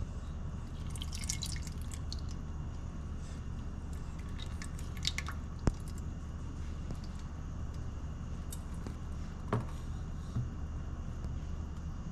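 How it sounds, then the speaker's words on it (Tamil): Potatoes are mixed by hand with cornflour and water in a kitchen, giving soft wet squishing and sparse dripping sounds, quiet and close, over faint steady background hum. "அப்படியே மிக்ஸ் பண்ணிக்கலாம் திட்டமாக தண்ணி ஊற்றுறேன்"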